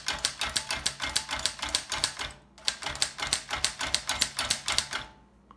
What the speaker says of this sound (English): I'll just type all the lowercase characters in the order they appear.